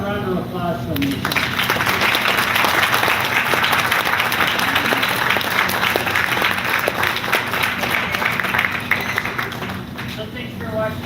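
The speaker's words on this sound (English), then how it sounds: "how about a round of applause from you?" An audience claps and cheers after a glass blowing demonstration at the Toledo Museum of Art, loud sustained applause swelling quickly and filling the room for about ten seconds before tapering off.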